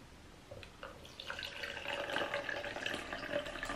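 Distilled water poured into a measuring cup, a faint, steady trickling and splashing that builds slightly in level as the cup fills, heard alone without talk.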